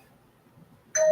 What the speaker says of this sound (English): Ooh, these notifications got loud.